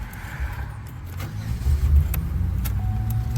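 A 2003 Pontiac Aztek engine idles steadily with a low, continuous rumble, close by, while small metallic clicks and light rattles from work at the ignition lock cylinder sound over it.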